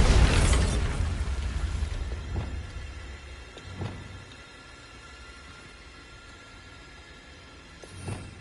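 Bombarda blasting spell exploding in the video game Hogwarts Legacy: a loud, booming burst at the start that decays into rumble, followed by fainter thuds and a smaller blast near the end, with no talk.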